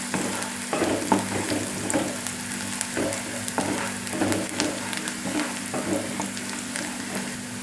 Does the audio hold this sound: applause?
no